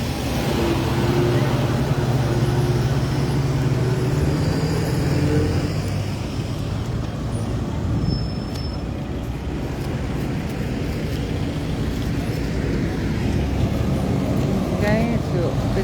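Steady road traffic at Zaatara Junction rumbles past, with engines passing in a continuous loud wash of low noise, heard from nearby with a voice talking over it.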